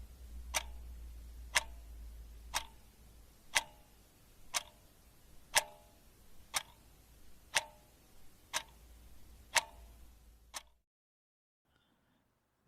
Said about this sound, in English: Cue the clock.